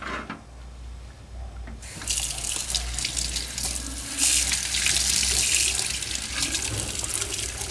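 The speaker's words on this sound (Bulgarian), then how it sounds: "Сваляме ръкавичките и отиваме на чешмата да измием с пастичката." A tap gushes steadily into a sink for rinsing off paste, the flow switching on after a brief quiet start and running continuously, close and fairly loud.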